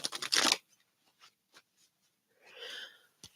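A deck of round tarot cards being shuffled, a loud riffling burst at the start, then a few soft card taps and a second rustling shuffle near the end.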